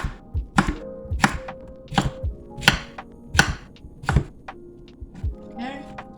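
A knife chops cleaned zucchini on a cutting board for shrimp hibachi, with about nine sharp, close thunks at a slightly uneven pace and brief gaps between strokes.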